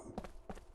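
Two players' running footsteps in a hide-and-seek style video game, a couple of soft thudding steps spaced apart, brief and moderately quiet.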